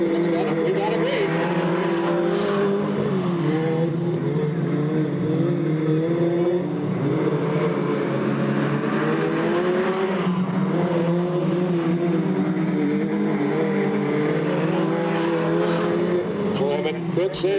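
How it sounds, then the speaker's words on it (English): Several race cars roar around the Delta Speedway oval in 1996, their engines droning loudly and continuously with rising and falling pitch as they pick up pace through the turns, with a voice faintly under the engine noise. "The 3 cars progress down the back straightaway into turn number 3"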